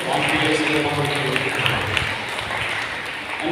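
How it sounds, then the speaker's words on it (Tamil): Applause and clapping for teachers at a Pongal festival event, a dense, steady wash of many hands clapping throughout, loud and continuous with crowd noise underneath. "பிள்ளைகளுக்கும் ஆசிரியர்கள் கைத்தட்டி நம்முடைய பாராட்டுகளை"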